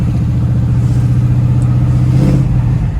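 A 1967 Camaro with a Turbo 400 transmission idles and runs close by, a loud, steady low engine drone with a slight swell midway and no talking.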